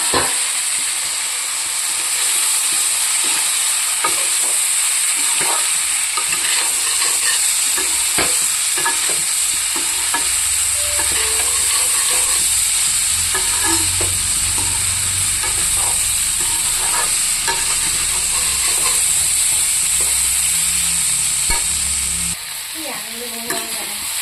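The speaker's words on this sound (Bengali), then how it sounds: "এখানে ভাজা রাখা আলু সয়াবিনটা দিয়ে দেবো" Fried potato pieces and soybean chunks are stirred into sizzling spice paste in a pan, a loud continuous frying hiss broken by repeated scraping and clattering of the spoon, with a low hum fading out near the end.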